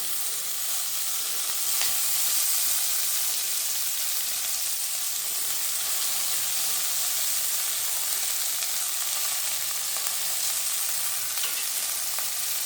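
Drumstick flowers sauté in hot oil, giving a steady, dense sizzle that holds at an even level throughout with no voices, only a few faint crackles rising above the hiss.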